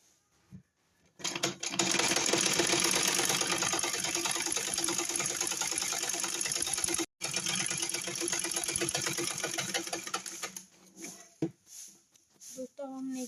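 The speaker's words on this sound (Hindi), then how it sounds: "इसी तरह से हमें दूसरे पार्ट की भी स्टिचिंग कर लेनी है।" Sewing machine stitching a trouser, a loud continuous rapid mechanical whir for most of the time with one brief pause, then slowing into a few separate clicks and taps.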